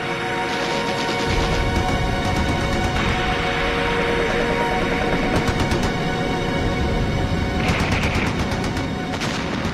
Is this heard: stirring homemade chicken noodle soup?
no